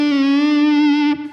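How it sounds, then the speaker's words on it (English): Electric guitar holding one sustained note with reverb and delay, its pitch gently bent by the tremolo arm, ringing steadily for over a second before cutting off into a short echoing tail. "Same thing when you use the tremolo arm, when you're just affecting the pitch of one note"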